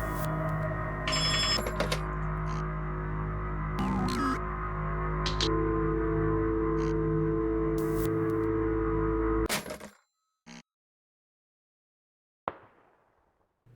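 A telephone rings repeatedly inside the Unsorted Horror video game, steady electronic trills over a droning hum for several seconds before cutting to near silence, followed by a faint click or two.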